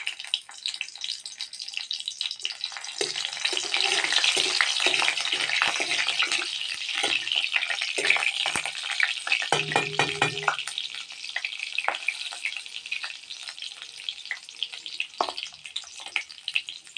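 Cumin seeds and green chilies frying in a pan for a home-cooked Odia meal, giving a steady bright sizzle with scraping stir strokes toward the middle, close and fairly loud, no talking.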